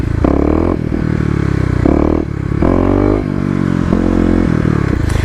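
Kawasaki KLX250 motorcycle engine revving hard in low gear, rising and dropping in bursts as the rear wheel loses traction in corners, loud and close with a steady droning tone.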